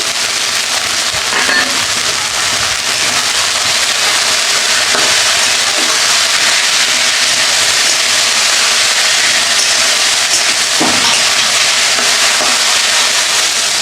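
Greens and chopped green chilli fry in a pan, a loud, dense, continuous hiss with occasional crackles breaking through, close and unbroken throughout.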